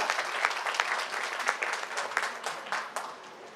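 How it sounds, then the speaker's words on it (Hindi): An audience at an International Women's Day celebration claps for themselves, a modest round of applause with distinct individual claps standing out, fairly close and without speech. "तो इसके लिए एक तालियां बनती है आपकी खुद के लिए।"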